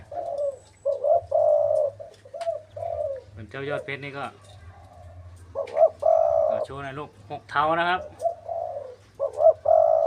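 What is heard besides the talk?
decoy dove cooing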